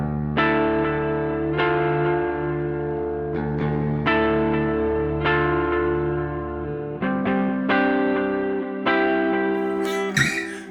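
A clean electric guitar riff through a pedalboard rings with a big reverb and a quarter-note analog delay, repeating chord hits decaying into echoes in a steady rhythm, close and alone with no voices.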